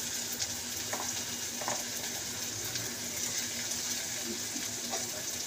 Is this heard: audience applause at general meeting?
no